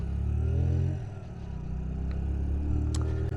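A Hyosung Aquila GV125 V-twin motorcycle pulling away in first gear, its engine droning loudly and steadily up close, the pitch dropping briefly and then building again, with a faint click near the end.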